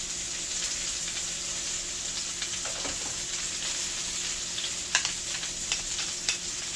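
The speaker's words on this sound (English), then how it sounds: "And put it back in the pan. And brown that up." Meat browning in a hot pan gives a steady, close sizzle and frying hiss throughout, with a few brief crackles and stirring clinks along the way.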